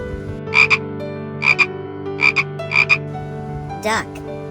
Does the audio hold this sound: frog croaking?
yes